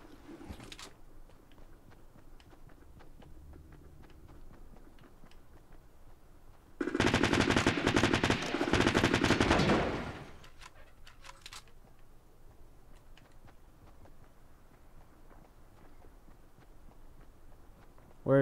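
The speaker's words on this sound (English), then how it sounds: "Some machine gun, thank you." A machine gun fires in a continuous burst of about three seconds in Fortnite, loud and dense against quieter game ambience with faint footsteps.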